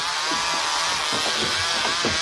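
A chainsaw runs in a comedy sketch, its motor droning steadily with rough revving pulses, fairly loud and sustained throughout with no speech over it.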